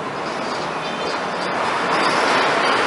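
A passing train rumbles by near an expressway, a dense continuous roar with a faint rhythmic rattle that swells slightly louder toward the end.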